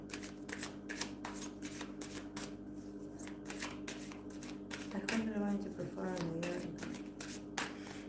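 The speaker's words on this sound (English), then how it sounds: "Now I'm going to pull cards for TXT." Tarot cards are shuffled by hand in a rapid run of crisp riffling flicks, close and fairly quiet, with a brief soft voice partway through.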